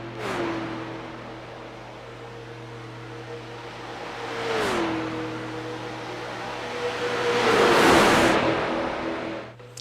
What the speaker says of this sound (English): There's cars.